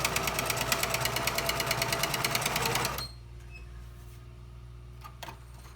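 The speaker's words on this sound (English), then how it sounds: "So you line up your foot, your sewing foot, and you just sew the 2x2s face to face." A domestic sewing machine stitches 2x2 quilt squares face to face for a nine-patch block, a fast steady mechanical chatter for about three seconds before stopping, leaving low hum and a couple of faint clicks.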